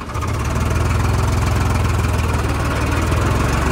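A Farmtrac 60 tractor engine idles loud and close, a steady low throbbing rumble with an even pulsing rhythm throughout.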